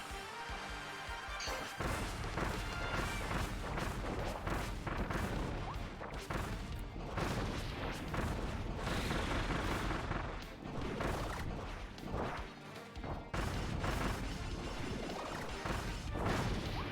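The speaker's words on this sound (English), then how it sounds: "just toss the bombs in different directions so they don't crash into one another" Homing bombs explode in Kirby and the Forgotten Land, a dense, loud barrage of crashing blasts that stacks up over game music and carries on almost without a break.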